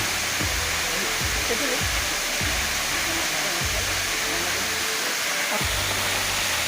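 Ksheera waterfall pours with a steady, hissing rush of falling water, broken by a few low thumps nearby.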